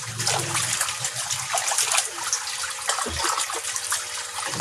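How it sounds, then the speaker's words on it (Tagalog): Water from a large pond filtration system gushes steadily and noisily through a drain pipe, a continuous rushing and gurgling flow with no voices. "drain na po natin itong tubig"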